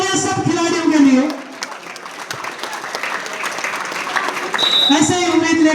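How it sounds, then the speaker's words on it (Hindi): Crowd applause at a village volleyball semifinal match in Bijnor, a broad clapping wash in the middle, with an announcer talking over a loudspeaker before and after it. "एक बार जबरदस्त तालियां सब खिलाड़ियों के लिए"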